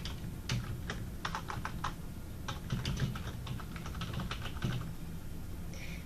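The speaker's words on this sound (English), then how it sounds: "Once you have finished typing" Fingers tap quickly on a computer keyboard in uneven bursts of crisp keystrokes, close and fairly quiet, with short pauses between runs and no talking.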